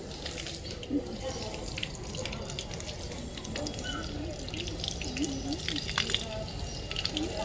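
Water runs steadily outdoors while feet are washed, with a continuous splashing flow throughout and people talking faintly in the background.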